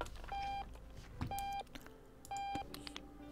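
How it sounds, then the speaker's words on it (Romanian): An alarm in the video game Octodad sounds three times, each a steady electronic tone about a third of a second long, evenly spaced, clear against quiet background noise. "Da, trebuie să opresc alarma asta că e enervantă rău."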